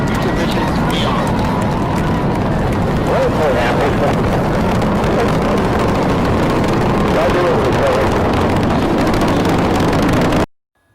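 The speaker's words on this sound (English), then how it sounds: "boost ignition, and liftoff of the Space Shuttle Discovery" Space Shuttle Discovery lifting off after booster ignition, heard as a loud, continuous roaring rumble that holds steady for about ten seconds before cutting off abruptly, with a commentator's voice partly mixed in.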